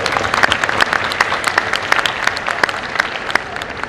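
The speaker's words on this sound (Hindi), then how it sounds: "मैं चाहता हूँ कि आप सभी एक बार जोर से ताली बजाएं" An audience claps together at a school annual function, a dense, steady burst of applause with sharp individual claps throughout, fairly close and loud.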